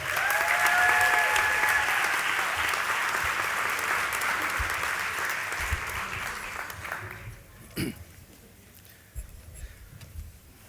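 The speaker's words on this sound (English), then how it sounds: "Another round of applause" Dense, sustained audience applause fills a hall at a 2019 high school senior convocation, loud at first and then fading out around the seven-second mark into quiet room noise with a few faint knocks.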